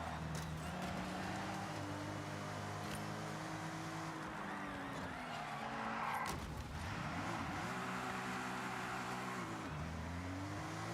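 A turbocharged car engine in the racing video game Forza Horizon 6 drones loudly and steadily as it races down a straight, its pitch rising and dropping through gear changes, with no talking.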